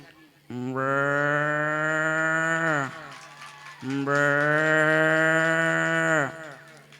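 A man vocally imitates a cow mooing: two long, drawn-out moos, loud and close, separated by a short pause, with no other sounds around them.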